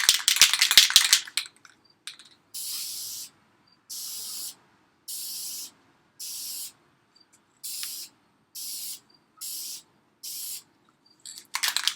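A spray paint can blacking out car taillights gives a rattle at first. Then it sprays in about nine short, even hissing bursts with quiet gaps between them, close by and without talk.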